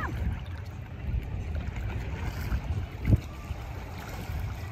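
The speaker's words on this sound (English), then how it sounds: "standing up, wait till I'm stable, and I can paddle" A stand-up paddleboard glides over open water off Redondo, with soft paddle splashes and lapping water under steady wind noise on the microphone, fairly close and continuous.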